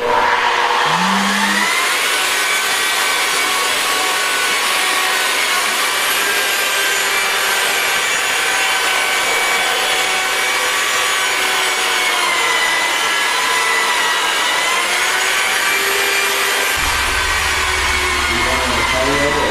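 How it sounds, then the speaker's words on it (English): Hand polishing along the edges of a terrazzo floor creates a loud, continuous grinding and rubbing roar that holds steady throughout, much like a power tool working stone. "To hand polish around the edges"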